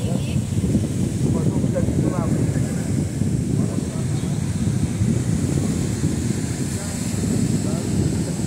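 Wind blows steadily across a hot beach in Itajaí, Brazil, with a constant low rushing roar buffeting the microphone for the whole stretch.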